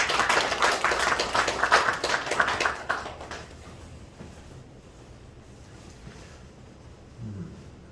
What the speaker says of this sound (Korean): 우리 경례 박수.